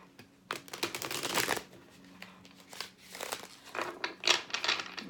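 Tarot cards shuffled by hand in bursts of riffling, papery flutter, close and moderately loud, with short pauses between shuffles and no talk.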